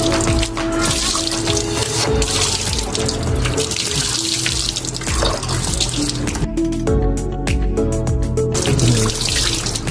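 Water is poured over a person on a hot day, a loud, continuous splashing rush close by that lasts the whole stretch and is heard alone.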